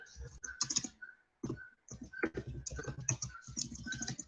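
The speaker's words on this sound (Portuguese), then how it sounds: "Teclado ruim." Irregular rapid keystrokes on a poor-quality computer keyboard, close and fairly loud, arriving in clustered bursts with short pauses between them.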